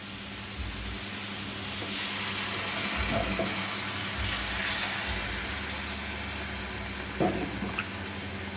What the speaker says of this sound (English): Gonna add some water to this.